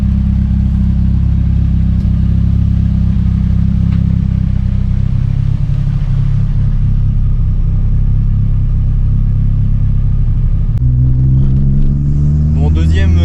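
A VW Golf 2 GTI 8S engine runs with a steady, loud, low rumble that shifts pitch near the end as the car moves off, with a voice briefly over it.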